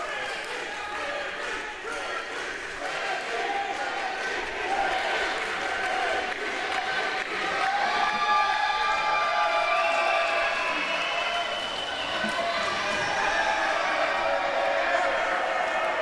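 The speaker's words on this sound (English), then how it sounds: "The crowd showing some dissatisfaction with the current champion, definitely behind the challenger tonight" A wrestling arena crowd at a championship match murmurs and calls out in a sustained, restless roar, with a commentator talking over it throughout.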